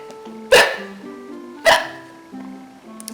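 A reader makes two sharp, loud hiccup sounds about a second apart, imitating a little penguin's hiccups over a soft musical background with notes sustained between them.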